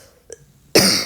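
A woman with a head cold gives a faint throat-clearing sound followed by a loud, harsh single cough, close to the microphone, with no talking.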